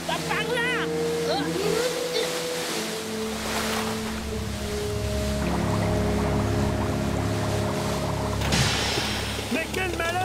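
A cartoon motorboat engine drones steadily on open water with surf and wind around it. Music and talk run over it, and it stays loud throughout.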